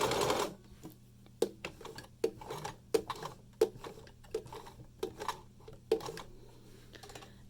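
A sewing machine set up for medium-weight fabric such as quilting cotton stitches through five or six folded layers, giving a quiet, steady run of close mechanical ticks and thumps.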